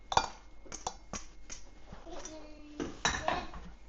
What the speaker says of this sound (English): Get those stirred in.